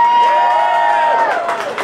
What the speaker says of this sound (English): can we get one more round of applause for the Joker?